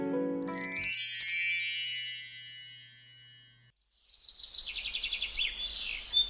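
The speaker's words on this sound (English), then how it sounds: "The bells at her waist jingled softly as she disappeared." Small bells at a waist jingle softly in bright tinkling bursts, fading to silence before a fainter, higher shimmer of chimes returns.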